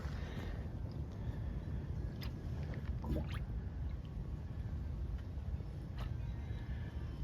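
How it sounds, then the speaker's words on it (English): Thin, watery engine oil pours and gurgles out of an oil pan after an engine flush, overflowing the catch pan. It makes a continuous, close rushing and splashing with low rumble and occasional faint ticks, with no talking. "let's go ahead and drain out that oil and see what it looks like"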